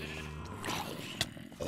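Sheep bleating in Minecraft, a short bleat with a few brief clicks and game sounds around it, fairly quiet and with no voice over it.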